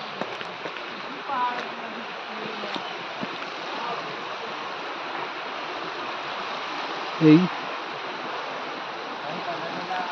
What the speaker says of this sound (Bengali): এখান থেকে জলের ধারার আওয়াজ পাওয়া যাচ্ছে।